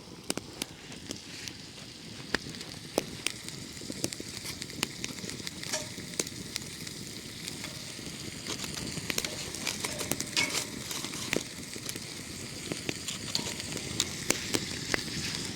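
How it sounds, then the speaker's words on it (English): Food sizzles and fries steadily in a pan at a dusk campsite, a continuous close crackling hiss with scattered sharp pops and occasional stirring clicks throughout, no talk. "Oh, I like the sizzle."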